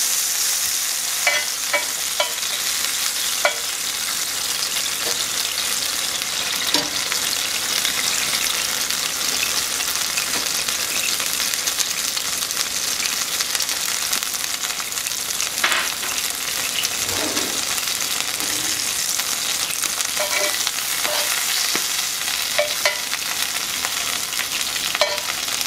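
Beef or shrimp and salsa ingredients roast in a hot stone molcajete, giving a steady bright sizzle with scattered crackles and pops throughout.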